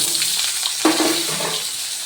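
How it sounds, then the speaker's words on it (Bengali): Cut mangoes drop into a hot wok (kadai) of oil tempered with five-spice, whole dried red chillies and bay leaf. A steady close sizzle swells into a louder crackling burst as they land, then settles into continuous frying. "চলো এরপর এই আমগুলো আমি এই কড়াইয়ের মধ্যে দিয়ে দিই"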